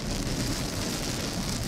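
Heavy rain pours down steadily during a Texas storm, a dense, even wash of hiss and patter without breaks.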